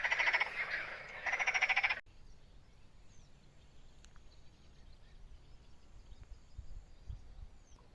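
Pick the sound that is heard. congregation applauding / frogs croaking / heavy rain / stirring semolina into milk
frogs croaking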